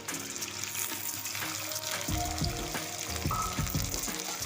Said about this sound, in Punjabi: ਸੇਕ ਲੱਗਣ ਦੇ ਬਾਅਦ ਇਸ ਦੇ ਵਿੱਚ ਹੁਣ ਆਪਾਂ ਪਿਆਜ਼ ਪਾ ਦਵਾਂਗੇ